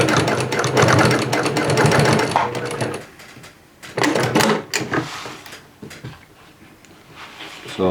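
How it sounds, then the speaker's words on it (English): A serger stitches a denim jeans seam, its motor running loud and steady with a dense mechanical chatter, then stopping and restarting in shorter bursts with brief pauses between. "I can come down through here and I can serge this, get it serged together"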